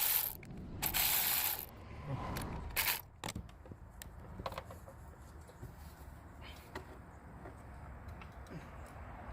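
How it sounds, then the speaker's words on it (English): A hand ratchet removes 10mm bolts from the engine of a 2011–2013 Kia Optima 2.0T. A few loud bursts of ratcheting come first, then quieter clicks and handling noises trail off nearby. "So they're just 10mm bolts. So we're just gonna rip these off."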